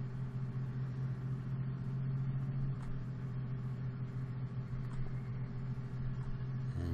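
A truck engine in Farming Simulator 2013 drones at a steady, low idling rumble throughout, continuous and unchanging, with no talk.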